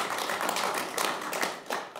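A studio audience applauding a correspondent just back from Ukraine, with dense, steady clapping filling the whole stretch at close, even loudness.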